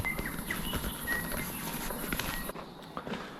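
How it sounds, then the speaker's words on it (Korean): Birds chirp faintly in a forest at Bob's Cove in New Zealand, with a few scattered tweets over footsteps on a walking path and a soft outdoor hiss. No one speaks. "오니까 새들이 엄청 지저귀고 있네요."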